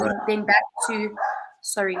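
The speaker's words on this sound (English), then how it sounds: "excuse my dogs" Dogs bark and yip in several quick, close bursts, mixed in with and partly covered by a person speaking.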